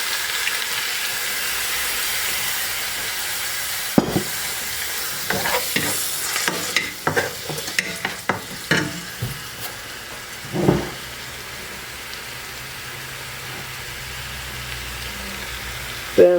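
Shaoxing wine hits a hot wok of Sichuan pepper stir-fry, giving a steady sizzle and hiss with occasional sharp spatters and utensil scrapes.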